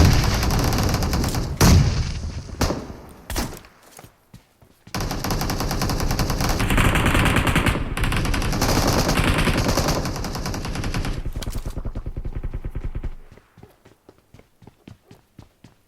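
Gunfire from both sides in the PUBG Mobile shooter game, Groza rifle in play: dense, loud rapid automatic bursts crackle for most of the stretch, then thin out to scattered single shots at the end.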